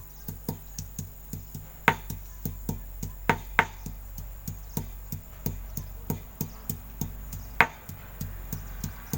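Ingredients for a homemade pest remedy are pounded by hand, a steady run of sharp, close knocks, roughly two or three per second for the whole stretch with a few harder blows, and no talking.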